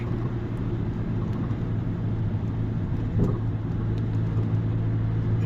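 Car driving through snowfall on partly cleared roads in Paradise, Newfoundland, with a steady low engine and tire rumble inside the cabin and a soft swell midway, no voices.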